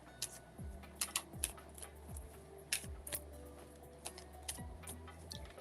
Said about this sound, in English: All right, I'm going to shuffle these cards again.